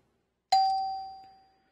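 A Nutone intercom's electronic doorbell chime strikes a single clear ding that rings on and fades away over about a second, heard alone in a quiet room.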